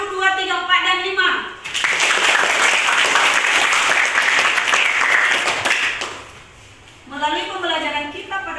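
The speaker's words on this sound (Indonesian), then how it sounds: "Tepuk tangan untuk kelompok 1," Classroom applause for student groups during an Indonesian drama lesson, a burst of lively clapping lasting several seconds between stretches of a teacher speaking.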